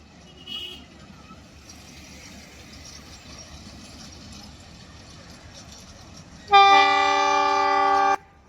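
A small four-car toy train on the Matheran line gives a low, steady running rumble, then a loud, sustained horn blast sounds near the end for about a second and a half.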